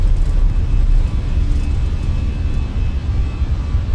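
Fenix A320 airliner jet engines in Microsoft Flight Simulator 2024 at takeoff rotation, a steady loud roar with deep low rumble holding constant throughout, no talk over it.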